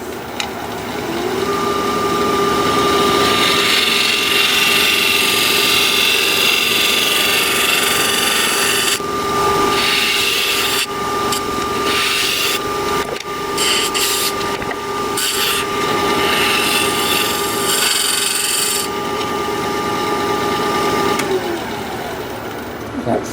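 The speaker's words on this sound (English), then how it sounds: "I'm going to use my little scraper here." A small scraper shapes wood on a spinning lathe, producing a continuous close scraping hiss over a steady motor hum. Louder, rougher bursts of cutting come in the middle.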